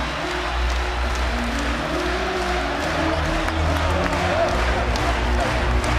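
A packed arena crowd at a college basketball game between ASU and Arizona roars loudly and steadily during a timeout, with a commentator talking over the noise.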